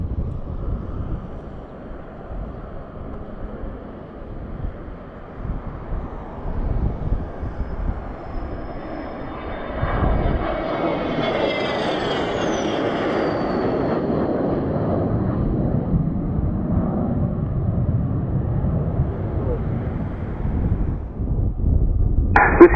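A Portugal Air Force Falcon 50 jet makes a low pass over the runway at Madeira Airport, a broad roar swelling from afar to a loud peak mid-clip and then fading, under steady wind noise.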